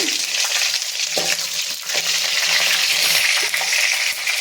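Mustard seeds sizzle and crackle in hot oil, a loud, close, continuous frying hiss with scattered pops and a few stirring knocks.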